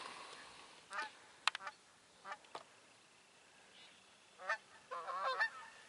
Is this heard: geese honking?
yes